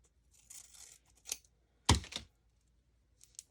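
Paper-craft scissors snip something out in a few short, close cuts, quiet rustles leading to one sharper crisp snip and a faint last snip, heard alone without talk.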